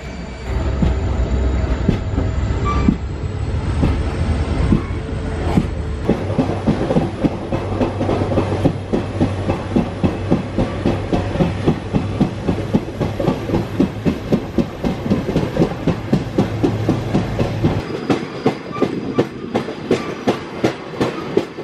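A train at Pimpri railway station rolls past with rhythmic clickety-clack of wheels over rail joints and a steady rumble, loud and close, with a high whine above; no one speaks.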